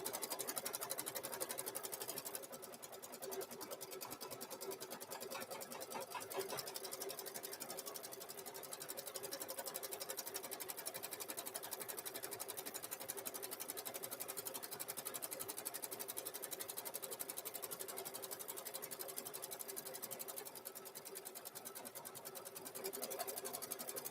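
A sewing machine stitching a hoodie, a fast continuous mechanical whir with a steady needle rhythm, close and running almost without pause.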